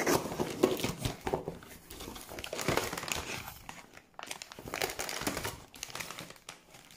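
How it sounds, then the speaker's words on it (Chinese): Plastic packaging of a delivered snack parcel, including bags of dried prunes, crinkles and rustles close up in irregular bursts with brief pauses as it is handled and opened. "刚才取了一个快递，这是我平时特别爱吃的小零食，一会儿给大家拆箱看看都有什么啊。"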